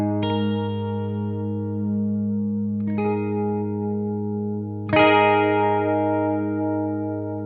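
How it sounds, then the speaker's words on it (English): An electric guitar runs through an Echoplex with its age knob set low, giving a sustained tone gritty overdrive and a slight warble. A few chords ring out and decay slowly, with a fresh strum near the end, and no one talks. "this is going to add some grit. It's going to add some warble, some overdrive of its own."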